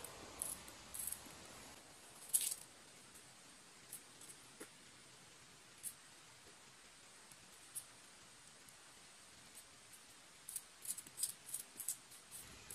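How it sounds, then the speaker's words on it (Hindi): Raw green mangoes being cut into small pieces with a knife, giving faint, sparse clicks and scrapes against a quiet background, with a few quick cutting taps near the end. "इसे छोटे छोटे पीसों में कट कर लेंगे।"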